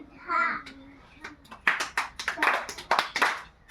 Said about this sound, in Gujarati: હું એક તાળી પાડી તો તમારે કહેવાનું એક હું બે તાળી પાડું તો તમારે કહેવાનું બે